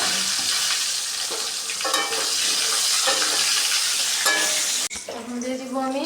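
Potatoes fry in hot oil for a fish-head muri ghonto, a loud continuous sizzle broken by scraping stirs and spatula clinks, close up, with a sudden surge of crackling after a brief gap.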